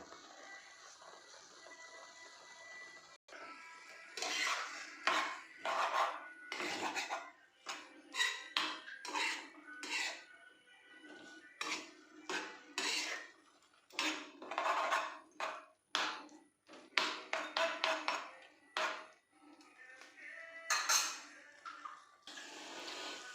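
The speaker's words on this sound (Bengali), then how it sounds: "একটু নেড়ে চেড়ে নিতে হবে ধীরে ধীরে" Egg bhurji with tomato cooked without oil being stirred slowly in a pan, a quiet run of irregular scraping and clinking strokes that comes in uneven bursts with short pauses between them.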